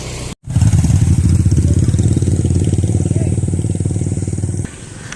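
A rented motorcycle on Tioman island idles loudly and steadily close by with a low chugging rumble, after a brief dropout near the start and a slight drop in level near the end.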